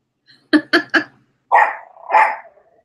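A male dog close by gives three short, sharp barks in quick succession, then two longer, rumbling growl-barks.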